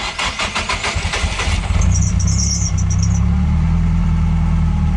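A car engine cranks with rapid rhythmic turnover for under two seconds, then catches and settles into a loud, steady idle close by.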